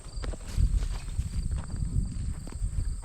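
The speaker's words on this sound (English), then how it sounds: "I'm going to go let the cows in now" Dairy cows walk in through a farm alleyway, their hooves making a steady, close run of irregular clops and thuds on a hard floor, with no talking.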